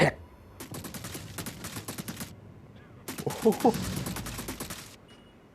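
Two rapid bursts of sharp, crackling explosive crossbow bolts firing in the video game AreaF2 Wildfire, each volley lasting about a second and a half, with a brief exclamation between.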